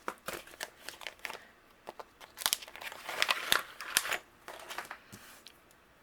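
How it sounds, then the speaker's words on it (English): Crisp crinkling and crunching from a die-cutting machine cutting a coordinating die around a stamped happy birthday sentiment on a card-making desk, a run of short close clicks and rustles with no talk. "And we will die cut out our happy birthday."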